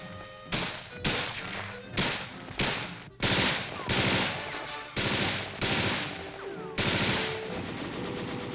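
Several rounds from an M14 service rifle, a newly issued lightweight military rifle, crack out in bursts of one or two sharp reports, each followed by a short ringing decay, loud and close across the whole stretch.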